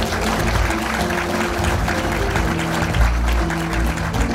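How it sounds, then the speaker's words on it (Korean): A crowd at a political party founding rally gives big applause to welcome co-chairman Kim Han-gil, a loud, continuous roar of clapping that holds steady throughout. "여러분 큰 박수로 환영해 주시기 바랍니다"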